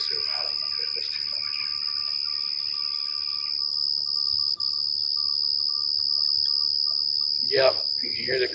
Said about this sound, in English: you can hear the crickets, y'all